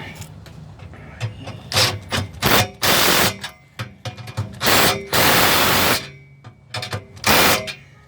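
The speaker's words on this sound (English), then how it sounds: "I should really tighten that clamp while I think of it" A hose clamp being tightened with a hand tool during crankcase evaporation work on a vehicle, heard as a series of close ratcheting and clicking bursts with brief pauses between turns.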